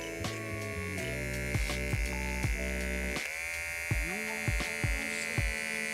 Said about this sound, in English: I'm going to see if this thing can actually cut the grass around the lip here